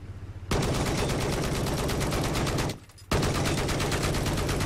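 Sustained rapid automatic gunfire in the shooter game Battlefield 4, loud and continuous for several seconds, with a brief pause before another long burst resumes.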